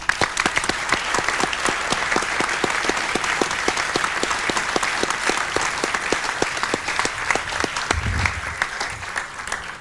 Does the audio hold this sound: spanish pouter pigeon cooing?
no